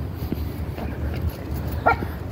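Outdoors on a warm day in central Texas, a dog gives a single short, faint yip against steady background noise, with no talking.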